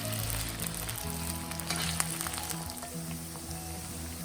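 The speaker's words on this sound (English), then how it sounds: "So we are going to fry the potatoes first." Potatoes fry in mustard oil over low heat, a steady close sizzle and crackle that holds throughout with a few faint clinks.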